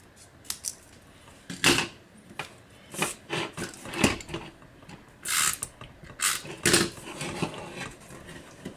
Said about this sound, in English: I'm going to take my snips, and I'm going to just cut off a little bit on each side